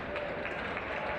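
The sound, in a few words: crowd applause for a substituted football player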